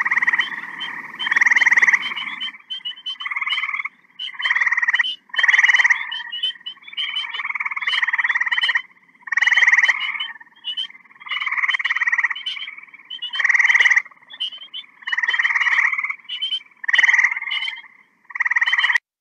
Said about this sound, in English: So that's the gray tree frog.